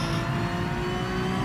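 A race car in Gran Turismo Sport held at full throttle, its engine a loud, steady, close drone that stays constant with no break.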